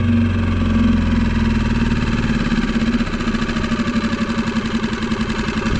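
A small outboard boat motor idles steadily just after starting, a loud close chugging beat that settles into an even, slightly uneven pulse with no talking.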